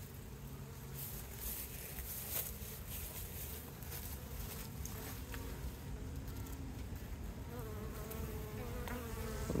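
Honey bees swarm around an opened top bar hive, giving a steady, dense buzz that rises and falls slightly with the nearby movement of many insects.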